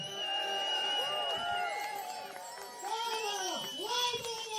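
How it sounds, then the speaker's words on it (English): Outdoor crowd at a cycling rally outside parliament cheering and whooping with children's voices, steady and loud, with high ringing tones that fit bicycle bells, all fairly close. "If you've got a bell, ring the bell, cheer!"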